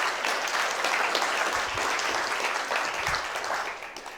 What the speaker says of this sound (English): No need to clap yet.